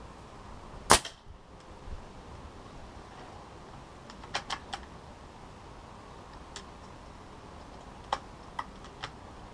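A single sharp crack from a Gamo Arrow air rifle firing an H&N Baracuda pellet, close and loud, followed by a few faint clicks and ticks in quiet surroundings.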